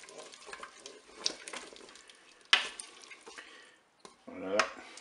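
Rice, pepper and curry powder are mixed in a Cookeo pot, giving a few short scraping and clinking strokes of a spoon against the pot over a faint background sizzle, separated by brief quiet gaps.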